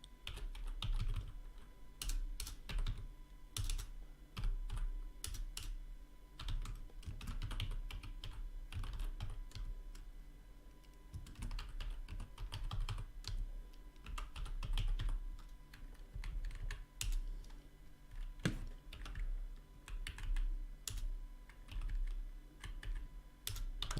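Computer keyboard being typed on continuously for about twenty-four seconds, quiet close clicks in an irregular rapid rhythm with brief pauses, no voices.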